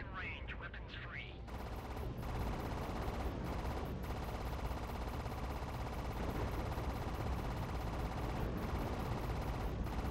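A fast-firing weapon in the space combat game Fractured Space pours out a dense, unbroken stream of loud shots after a brief softer opening, with an in-game voice heard early on.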